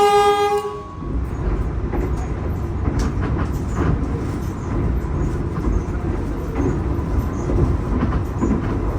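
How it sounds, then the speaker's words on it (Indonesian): A Dharmawangsa passenger train pulls into Pekalongan station, opening with a short horn toot before a steady, loud rumble of wheels and carriages rolling close by. "perjalanan kereta api Dharma Wangsa yang saya naiki sudah tiba di stasiun Pekalongan"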